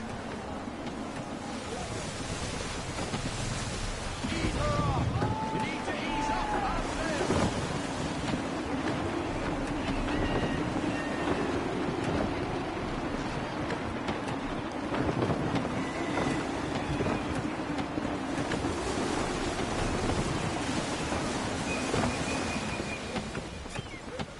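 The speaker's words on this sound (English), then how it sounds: "Gusty winds can be difficult to manage." Gusty wind and rushing sea while sailing a ship in Assassin's Creed 3 Remastered, a steady blustery roar with creaking hull and lapping waves, rising and falling in gusts throughout.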